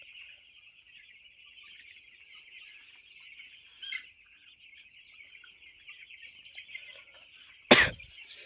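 Chickens at a poultry farm at night, with soft clucking and murmuring held in a steady background chorus throughout. A single louder, sharp burst cuts in near the end.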